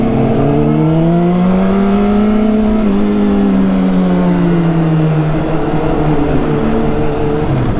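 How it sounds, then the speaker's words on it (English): A car engine revs loudly and continuously, its pitch climbing, dipping and climbing again in a sustained, close roar lasting several seconds. "Oh, it's a car."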